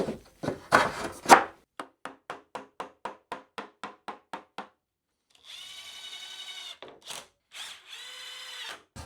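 Power drill driving screws into a wooden workbench tray. A quick run of evenly spaced ratcheting clicks comes first, then two sustained, whining motor runs, close and moderately loud, with no talk.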